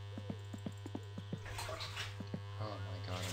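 Water splashing in My Summer Car, preceded by a string of regular clicks over a steady electrical hum, then a soft wash of pouring and splashing, faint and under low background noise.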